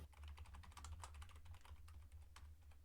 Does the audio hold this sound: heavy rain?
no